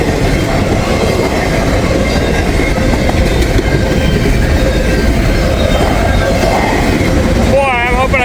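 A freight train rumbles steadily past up close, a dense continuous roar of rolling wagons with faint wheel clatter, and a brief rising squeal near the end.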